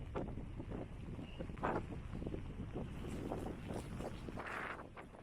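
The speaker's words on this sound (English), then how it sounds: "Like I say, a bit windy." Gusty wind buffets the microphone in low rumbling bursts, steady and close, with no voices, on a wild Irish coastal strand.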